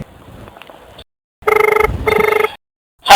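Telephone ringback tone while calling a friend: two loud bursts of rapid trilling ring separated by a short gap, clear and close, with brief muffled sound around it.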